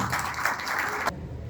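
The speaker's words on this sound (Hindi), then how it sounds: "आपकी भरपूर तालियों में एक्स प्रेसिडेंट" An audience at a New Year celebration gives a short burst of dense clapping for ex-president Louis Abrejo, which breaks off abruptly after about a second, leaving a quiet room.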